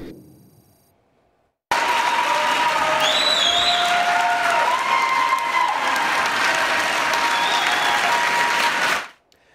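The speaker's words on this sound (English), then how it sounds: "You heard those cheers and applause from senators and teachers in Senate chamber today." Loud, sustained cheering and applause from senators and teachers filling a Senate chamber as a nine-day West Virginia teacher strike ends, a dense roar of clapping and whoops that starts abruptly and fades out near the end.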